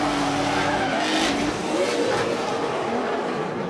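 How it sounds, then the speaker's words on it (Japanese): Drift competition car at a Formula D Japan event at Ebisu West, its engine running rough and sounding unhealthy, heard as a loud, continuous roar with tire noise throughout, no talk. "あらなんか車の調子が悪いぞ さあゾーン あれ音が悪いぞ"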